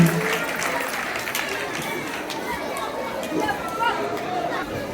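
Parents in an audience applauding at a school report-card ceremony, a steady wash of clapping mixed with crowd chatter and movement throughout.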